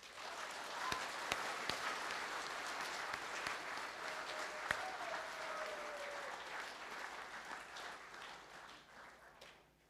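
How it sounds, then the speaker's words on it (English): Faint, distant audience applause fills a hall at a senior school prizegiving, steady clapping lasting about ten seconds before trailing off at the end. "we could all give them a round of applause."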